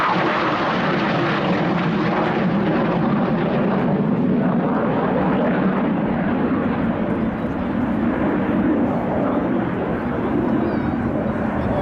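BAE Hawk jets of the Saudi Hawks team flying in close formation overhead, a continuous loud roaring engine rush that holds steady throughout, no voices heard.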